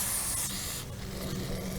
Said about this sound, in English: We'll just spray that down real good.